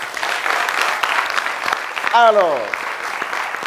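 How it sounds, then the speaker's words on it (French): An audience claps for a young musician at a café stage show, steady clapping under a man's speech, with a brief rising tonal sweep partway through. "on va applaudir ce garçon"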